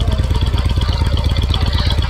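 Engine noise from a vehicle driving in the Pizza Tycoon video game, a steady, loud, low rumbling drone with a fast pulsing rhythm that runs unbroken and stands alone without speech.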